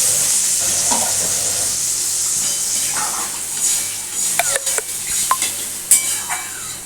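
Water poured into a pan of simmering Bengali boal fish curry with aubergine, a steady broad hiss and bubbling with a few sharp clinks of utensils against the pan toward the end, close and alone without talk.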